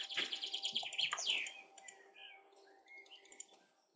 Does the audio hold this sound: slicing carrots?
no